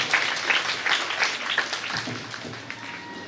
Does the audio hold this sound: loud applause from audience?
yes